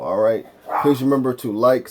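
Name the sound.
dogs barking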